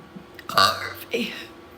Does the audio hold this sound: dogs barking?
no